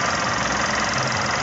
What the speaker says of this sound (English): we'll come out to the front so you can hear the engine. Engine's been running since we started.